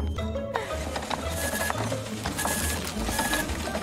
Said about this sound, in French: Oh non, ça continue d'imprimer.